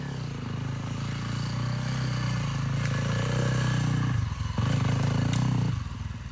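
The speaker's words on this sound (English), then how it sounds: "So I packed the antlers out on my dirt bike." A dirt bike carries elk antlers down a mountain trail, its engine droning loud and close with shifting revs, brief dips and rattling clatter from the load and rough ground.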